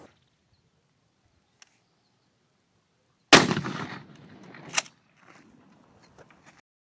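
A 12 gauge shotgun firing a multiple impact round at a ballistic gelatin block from 25 feet, one sharp loud blast followed by a short rumbling tail and a few faint clicks afterward.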